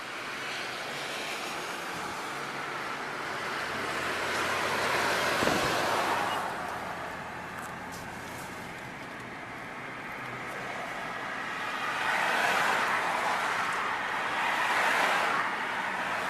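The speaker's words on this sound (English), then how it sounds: "There's a lot of traffic today." Road traffic flows past at moderate distance, a continuous wash of tyre and engine noise that swells as vehicles pass around the middle and again near the end, with no talking.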